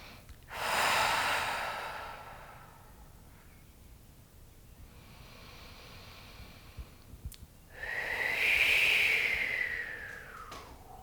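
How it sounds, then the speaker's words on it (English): Slow, deep breaths during a yoga session, one long airy inhale-exhale near the start and another toward the end, close and fairly loud with quiet gaps between and no talking. "just take a couple of solid breaths in"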